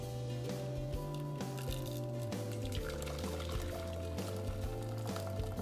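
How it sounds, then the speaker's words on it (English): Hot homemade coconut milk poured through a wire mesh strainer, a continuous close splashing and dribbling of liquid with soft wet squishes throughout. "just pour everything right out in there"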